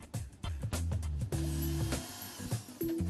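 Screws being turned out of a lower footwell cover in a Mercedes-Benz car, heard as faint, close, intermittent clicks, scrapes and a soft tool whir with short pauses.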